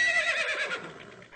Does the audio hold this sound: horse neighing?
yes